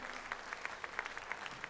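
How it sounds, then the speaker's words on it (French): Scattered, fairly faint clapping from an audience at a dairy cow championship, a handful of distinct claps rising over a low background hum, brief and uneven rather than a full ovation. "Je vais vous demander de les applaudir."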